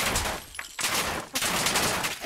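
Heavy gunfire in Fallout 4, dense overlapping bursts of rifle and automatic shots crackling loudly with brief gaps between volleys.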